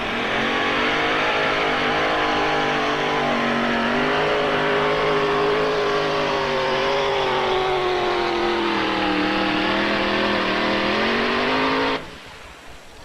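A pulling vehicle's engine roars loud and sustained at a 1993 Chapel Hill truck pull, its pitch climbing and straining as it drags a heavy sled down the track, then cutting off abruptly near the end.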